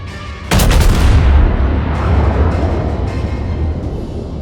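Warship guns fire in a naval video game. A loud, sharp boom is followed by a long rumbling roll of reverberation and some fainter follow-up thumps.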